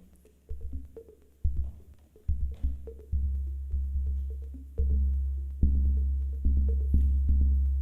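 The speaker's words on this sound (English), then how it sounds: "So that sub bass is the output from the sine wave from the first butterfly here going through the filter" Deep sub bass notes from a modular synthesizer sine wave run through a filter pulse in a steady rhythm alongside punchy kick drum hits, each note swelling and decaying, with no voices.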